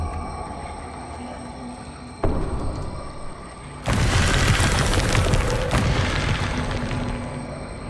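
The Confringo fire spell bursting in Hogwarts Legacy, a loud deep boom that rolls into a sustained roaring blast lasting several seconds, after a smaller thump.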